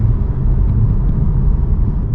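A Polestar 2 electric car driving: a continuous low road and cabin rumble holds steady throughout, with no engine note and no talking.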